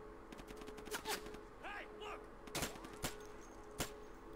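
Gunfire from the tactical shooter Insurgency: several sharp, loud single shots spaced irregularly through the clip, with a voice briefly audible between them.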